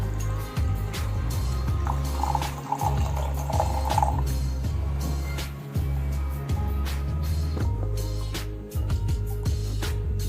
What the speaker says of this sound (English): I will start pour the freshly brewed Starbucks Fairtrade certified Italian roast